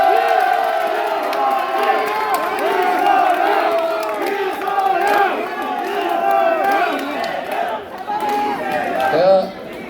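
A crowd at a youth transit-pass meeting at Uiwang Station cheers and calls out steadily, many voices blending into a dense, lively roar that holds for the whole stretch without a break.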